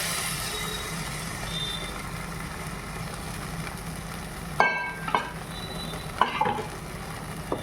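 Boiled dal being stirred into cooked mango in a pot, a soft continuous simmering hiss with several distinct clinks and scrapes of a spoon against the pot in the second half.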